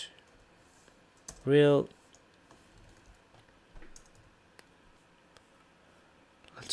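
Soft, rapid keyboard typing while code is written, scattered key clicks in quiet bursts, with a brief spoken word partway through.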